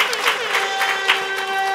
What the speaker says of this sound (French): Applaudissez pour Prince le Sapman.